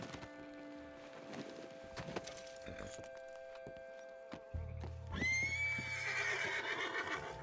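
A horse whinnies loudly near the end, after hooves clop and scattered clicks and thumps, with a low steady hum throughout, in the video game Red Dead Redemption 2.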